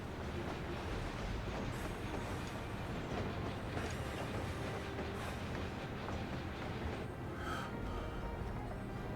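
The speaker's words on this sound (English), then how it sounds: "it sounds like a train, but also sounds like a quiet train" A quiet train rolls steadily in Final Fantasy XIV, a low continuous rumble with soft clatter and occasional higher hiss, sustained evenly throughout with no talking over it.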